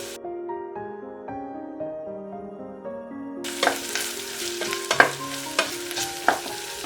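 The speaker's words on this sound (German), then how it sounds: "Jetzt würde ich Knoblauch und Ingwer dazugeben." After a stretch of gentle music, half-cooked onions with garlic and ginger are sautéed in a pan for a paneer curry, a rough sizzle with sharp stirring clacks rising close up.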